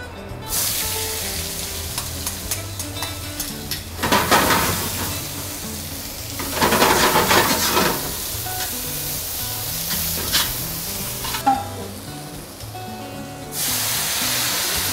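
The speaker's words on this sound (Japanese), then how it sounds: "玉ねぎを入れます" Sliced onions go into a hot pan where pork ginger-style strips are browning, a loud steady sizzle with surges of crackling as they are stirred, bursts of spatter rising and falling over about fifteen seconds.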